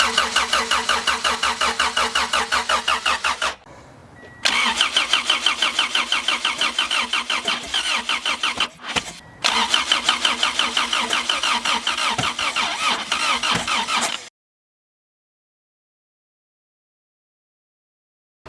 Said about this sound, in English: All right, so we just started the car